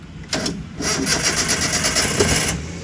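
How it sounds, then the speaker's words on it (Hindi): A car engine cranks with a few short starter whirs, then catches and settles into a steady close idle, loud and alone with no talking. "मेरी गाड़ी स्टार्ट हो चुकी है"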